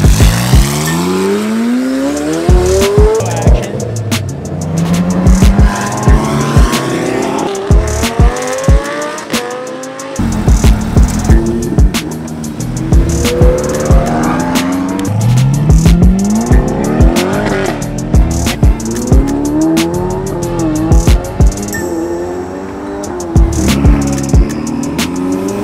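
Cars perform burnouts on a street during a car meet, their tires squealing and skidding loudly and continuously alongside roaring engines, with repeated surges close by.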